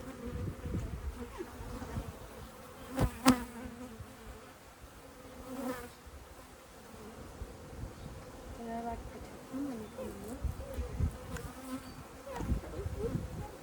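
A steady, close drone of many honey bees buzzing in a top bar hive fills the clip, with a person speaking briefly over it.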